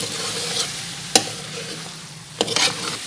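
Beef karahi stir-fries in a pan as yakhni stock is added, a steady close sizzle broken by two sharp clacks of a utensil against metal.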